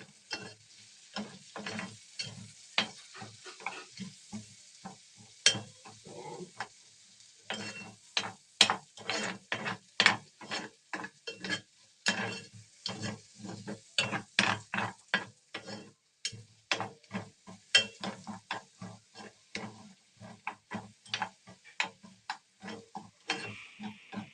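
Garlic sautés in a pan with quick repeated scraping and tapping of a utensil, a busy clattering rhythm over a soft sizzle, fairly quiet and close.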